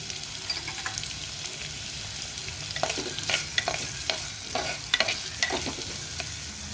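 Onion sautéing in hot oil for a fenugreek leaf dish, a continuous crackling sizzle with repeated light spatula scrapes and taps, close and moderately loud, no speech.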